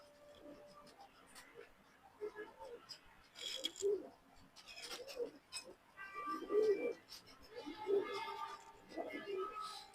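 Racing pigeons, a breeding pair, coo repeatedly close by, soft throaty calls recurring every second or so amid faint rustling, with someone talking quietly in between.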